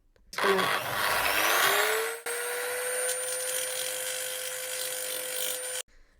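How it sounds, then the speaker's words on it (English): A Dremel rotary tool with a sanding drum whirs loudly and steadily, its high-pitched whine rising as it spins up and then holding for several seconds while grinding points flat. "I'm going to use this Dremel with a sanding disc, or I think it's a sanding drum on it"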